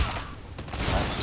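Rapid automatic fire from the RUS-79U Dustkicker, a legendary gun in Call of Duty Mobile, a dense, loud, continuous rattle of shots with no gaps across the short burst.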